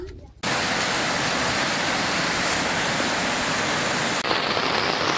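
Heavy rain pours down in a village, a dense, loud, steady roar that cuts in abruptly after a brief quiet start and holds unbroken to the end.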